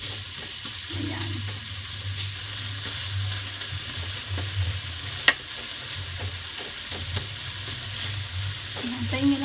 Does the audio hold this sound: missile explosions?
no